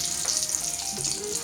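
Cutlets fry in hot oil with a steady, close, crackling sizzle that carries through the whole brief moment, with no voices.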